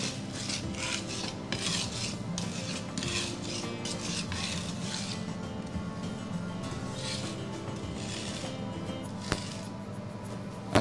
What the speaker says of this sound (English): just rub it against the board. You get a lovely garlic puree